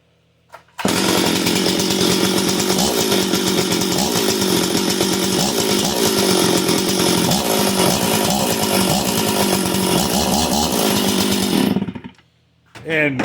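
A Stihl MS 440 chainsaw, freshly reassembled and run without bar oil, idles with the chain brake engaged. It starts abruptly and holds a loud, steady buzzing drone with slight wavering for about eleven seconds, then cuts off.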